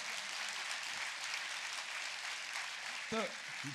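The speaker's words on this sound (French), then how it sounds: "on peut l'applaudir encore une fois" An audience at a mayor's New Year greetings event in 2019 claps in a steady, continuous round of applause filling the hall, with a brief voice near the end.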